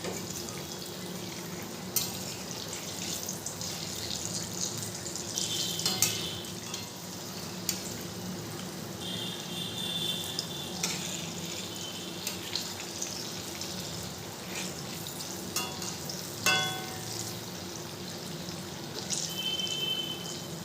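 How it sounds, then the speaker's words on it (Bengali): Ripe mango fritters sizzle in hot oil, a steady crackling fry broken by occasional scraping clicks as a spatula turns them over, close and moderately loud with no talking. "ভালো করে ভেজে নেব।"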